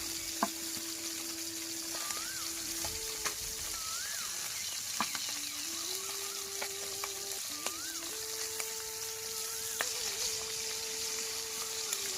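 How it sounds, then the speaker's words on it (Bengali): Singi catfish frying in oil in a pan, a steady close sizzle running throughout, with occasional utensil clinks and a faint background melody over it. "আর দেখেন একটু মাছগুলো লাল লাল করে ভেজে নিব আমরা"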